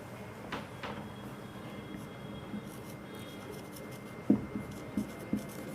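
During a Class 11 physics lesson on units and measurements, a teacher writes notes on a board: a couple of quick scraping strokes come first, then a few short taps and strokes, all faint against a quiet room with no talking.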